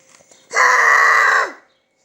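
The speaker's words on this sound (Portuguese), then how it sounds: "A galinha." A chicken gives a single loud, close, sustained call lasting about a second, alone apart from faint noise before it.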